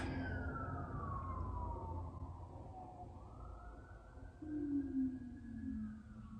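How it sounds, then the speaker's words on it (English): An ambulance siren wails in the distance, its pitch sliding down as it passes and then rising again, faint against steady background noise. "At least, ooh, an ambulance"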